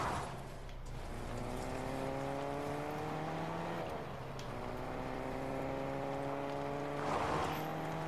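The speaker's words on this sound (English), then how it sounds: "This car works." A car drives in the video game Fortnite, with a steady engine drone whose rising and falling pitch sweeps through gear changes, continuous and moderately loud with no voices.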